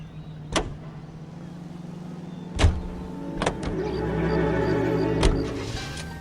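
Car in the video game L.A. Noire: a steady engine hum that swells as the car pulls away, broken by a few sharp clicks and thumps, with no speech.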